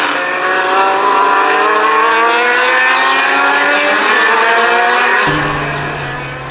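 Race cars accelerate from the start of a Saturday afternoon SVRA qualifying race at Portland International Raceway, a loud dense roar of many engines with rising overlapping pitches, heard from the stands and fading slightly at the end.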